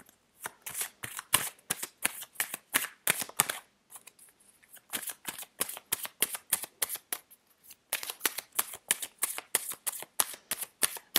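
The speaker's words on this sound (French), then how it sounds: "Là, je vais tirer une lame avec l'autre." Tarot cards being shuffled and drawn by hand in repeated quick riffling bursts, a rhythmic series of crisp flicks with a short pause midway, close and fairly quiet.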